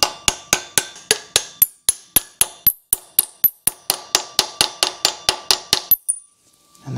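Rapid, evenly spaced metallic hammer taps driving a pilot bearing into a 1953 GMC drivetrain, about twenty sharp strikes in steady rhythm, close and loud, then stopping.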